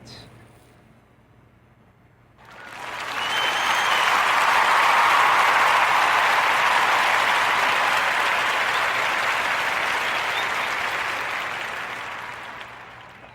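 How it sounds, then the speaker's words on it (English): Applause breaks out after a quiet moment, a sustained wash of clapping from a crowd that swells quickly and slowly tapers. "join me in giving a warm Narrative Podcast round of applause for our brothers Joseph and William Wyatt"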